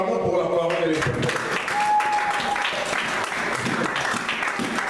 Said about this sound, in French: Acclamons pour la parole de l'Éternel.